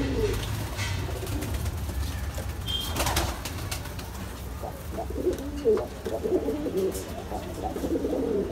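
Pigeons coo in low, repeated throaty calls close by, with a brief burst of wing flapping and faint background noise.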